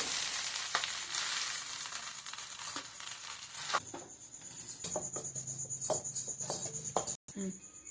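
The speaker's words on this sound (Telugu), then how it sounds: "ఈ మిరపకాయలు కొన్నిగా దొడ్డుప్పు వేస్తున్నా" Dried red chillies and coarse salt roast in oil for a gongura pickle, giving a dense sizzle that thins out halfway through, with scattered clinks and scrapes that follow.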